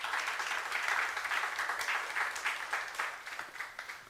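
Congregation at a Korean church youth service on Easter breaks into sustained, dense applause, a full room of hands clapping evenly for several seconds without a voice over it.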